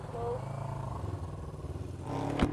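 A motorcycle with a playing-up engine and weak battery runs close by, its steady rumbling idle lifting into a short rev with a sharp clatter near the end.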